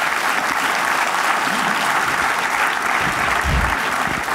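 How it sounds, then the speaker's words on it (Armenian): Studio audience applause at a comedy league final show, steady and loud clapping filling the whole stretch, with a faint voice briefly audible underneath. "մի հատ ծափարություններ"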